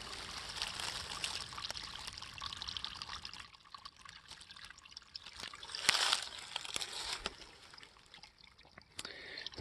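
A small stream in a roadside ditch in hilly Alabama woods trickles steadily and faintly, a soft continuous gurgle with a brief louder splash near the middle and a few small clicks.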